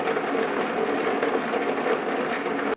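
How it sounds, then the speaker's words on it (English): A blender whirs steadily while blending a thick frosting of dates and whipping cream for a sugar-free banana cake, a loud continuous motor drone that runs without pause and then cuts off abruptly at the end. "we are going to just blend until we have a nice thick frosting"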